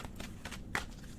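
A tarot deck is shuffled by hand, giving soft, quick riffling card flutters in a few short bursts, close and quiet.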